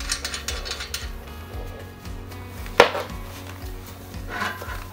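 Bolts and nuts being tightened with washers while assembling an EX510 incline bench, giving a series of rhythmic ratcheting clicks close by, with one sharper metallic knock partway through.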